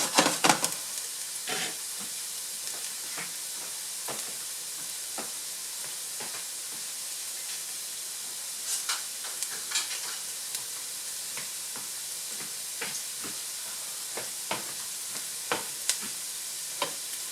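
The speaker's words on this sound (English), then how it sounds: "Ginger and garlic are golden brown" Ginger and garlic fry in a pan, giving a continuous soft sizzle and hiss punctuated by frequent sharp crackles and pops, close and steady throughout.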